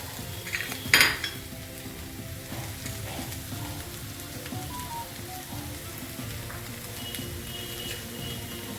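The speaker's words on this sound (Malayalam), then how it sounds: "കടുക് പൊട്ടിക്കാം." Mustard seeds splutter in hot oil in a pan for a Kerala chicken thoran, a steady close crackling sizzle with one sharp metallic clank near the start and light stirring scrapes.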